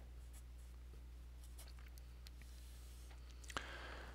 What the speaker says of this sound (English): so I'll write out what the law of sines states.